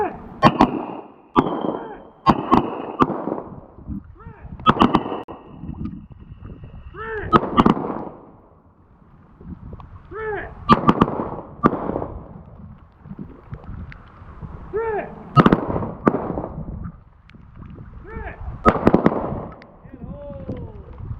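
Pistol shots crack out one after another on an outdoor range during a pistol training class, sharp loud reports coming in short bursts and single shots, with voices talking between them.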